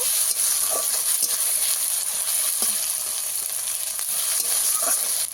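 Onions fry in a pan for a fish curry, a steady broadband sizzle running throughout with occasional faint clicks and stirring touches, no one speaking.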